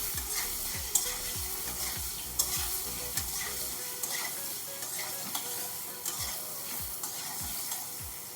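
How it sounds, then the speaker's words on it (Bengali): Stuffed pointed gourd (potol) filled with paneer and poppy seed fries in a pan with a steady sizzle, while a spoon scrapes and stirs at a regular rhythm of short knocks, up close and with no talking. "আমি ভালো করে ভেজে নিচ্ছি।"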